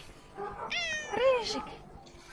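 A ginger cat meows up close in a snowy Ukrainian farmyard, a couple of drawn-out, wavering cries, with a person's voice speaking softly alongside.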